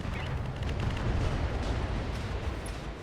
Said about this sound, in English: we're going to drop artillery on these two over here